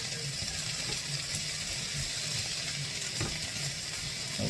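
Spicy Cajun sausage and peppers with bay leaves sizzle steadily in a hot pan while being stirred, a dense continuous frying hiss with occasional spoon scrapes and no talking.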